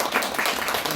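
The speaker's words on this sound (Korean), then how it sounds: "큰 박수 한번 부탁드립니다." Audience applause at a lecture on space law and policy, a dense wash of clapping from the room that holds steady through the whole short moment.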